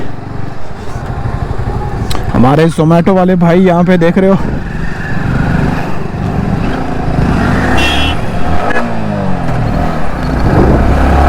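Road traffic jam with cars and motorcycles idling and creeping forward, a continuous engine rumble with one loud rising horn blast, while someone talks over the noise.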